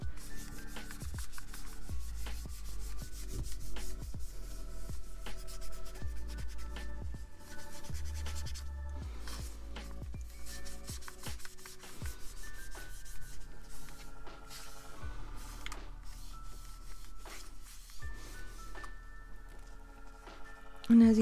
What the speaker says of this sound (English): And then gently kind of rub side to side wherever the stickiness is, and it comes off pretty easily.